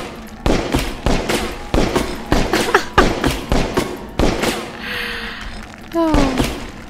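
Gunfire in the video game Overclocked rings out as a rapid string of sharp, loud shots hitting a wall, with a few ricochet-like whines toward the end.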